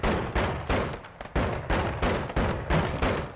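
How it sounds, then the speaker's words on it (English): Shotgun fire in the video game Noita, a rapid series of about nine heavy, booming blasts with sharp attacks and short decays, loud and evenly spaced. "What will this do with the shotgun?"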